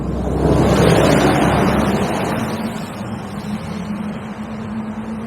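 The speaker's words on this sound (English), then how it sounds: "No, there's a car coming behind me." A car passes close on a busy road at night, its engine and tyre roar swelling then fading into a steady rumble as another vehicle approaches.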